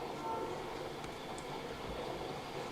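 A stage sound effect of a train rolling along railroad tracks during a theater play: a steady, full rumble of wheels and rail noise held at an even level throughout, with no voices.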